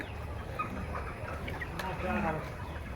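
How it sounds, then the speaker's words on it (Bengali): Sonali hens on a layer farm with about eighteen hundred birds cluck and murmur throughout, a close, busy flock chorus with someone talking faintly underneath. "এই যে সোনালি মুরগি এই পাশে এই যে সোনালি কত পিস আছে সোনালি"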